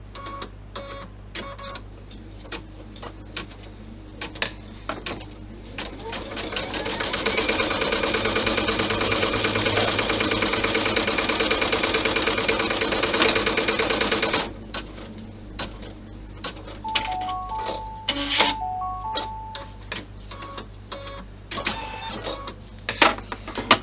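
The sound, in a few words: embroidery machine stitching a cloth clutch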